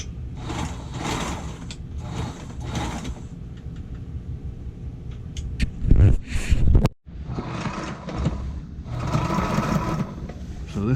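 Repaired and realigned sewing machine on the LS running in several short bursts of stitching, close and mechanical, with gaps and a brief thump between runs.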